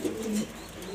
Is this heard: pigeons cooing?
yes